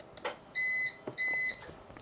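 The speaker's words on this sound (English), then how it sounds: "you can probably hear that the UPS is just flicked over." An Amazon Basics 550VA UPS switching over during its self-test gives two loud, high, steady electronic beeps of roughly a third of a second each, evenly spaced, with faint clicks and room noise around them.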